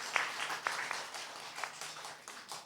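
Church congregation applauding during a Sunday worship service, a brief, fairly soft patter of scattered hand claps from a roomful of people, fading slightly toward the end.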